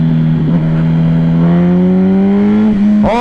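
A 2008 Yamaha R1 1000cc motorcycle engine holds a loud, steady drone, climbs slowly in pitch, then snaps into a sharp rev on a quick throttle blip at the end.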